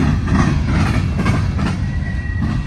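A Norfolk Southern freight train rolls past at a rail junction, its steady rumble and wheel clatter loud and continuous throughout, with a faint high wheel squeal near the end.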